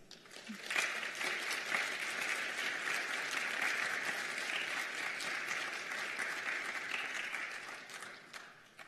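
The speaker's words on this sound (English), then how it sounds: "Go ahead and give them a big round of applause." Sustained audience applause at a first-generation student commencement ceremony, a dense, steady wash of many hands clapping from start to finish, with a few scattered voices mixed in.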